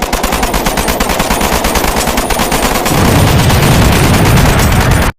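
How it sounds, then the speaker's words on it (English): Sustained automatic gunfire from a ship opening fire in a science-fiction film, rapid continuous bursts that stay loud and dense throughout, growing heavier with deep booming impacts partway through. "Open fire!"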